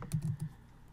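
A few quick keystrokes on a computer keyboard while entering a web address, three soft close taps in rapid succession followed by quiet.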